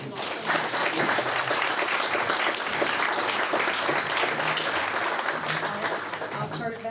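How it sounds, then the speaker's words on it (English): Sustained audience applause fills a political Lincoln Days dinner in Howell County, steady and dense throughout with some voices mixed in. "if we could please give everybody a round of applause"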